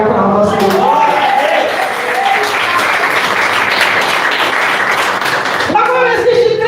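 A church congregation breaks into sustained, dense applause that fills the room, with a voice speaking at the start and again as the clapping fades at the end.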